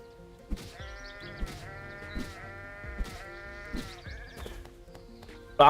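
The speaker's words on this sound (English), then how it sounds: "Sheep." Sheep in the video game Holoearth bleat several times in a row, each call clear and close, with soft thuds between them and a sharp sound at the very end.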